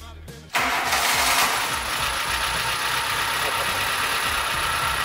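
A barn-find vehicle's engine cranks briefly, catches and settles into a steady, loud idle that runs on evenly close by.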